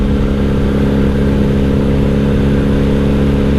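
1997 Honda Magna VF750C motorcycle with Vance and Hines exhaust cruising in fifth gear, a loud, steady close-up engine drone with rich low rumble and no talk.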